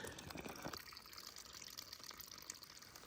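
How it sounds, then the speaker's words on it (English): Cool spring water runs steadily into a container at a trail shelter in Vermont, a soft continuous trickle and gush that stays close and even throughout, with no voices. "Another batch of cool spring water."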